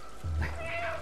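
A single short cat meow from the video game Stray, soft and clear over quiet background ambience.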